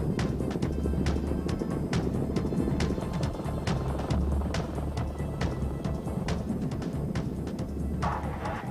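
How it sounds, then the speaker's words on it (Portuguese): US Marine assault helicopters flying during a military exercise, their rotors beating in a fast, steady rhythmic chop that stays loud and sustained throughout. "Rápidos helicópteros de assalto os colocam quase no meio da batalha."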